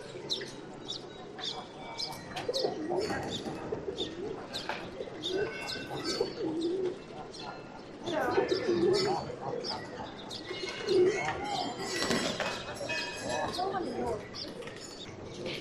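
Pigeons coo steadily, with occasional chirps and wing flaps, in a busy Kathmandu square on a morning, surrounded by crowd noise and people talking nearby.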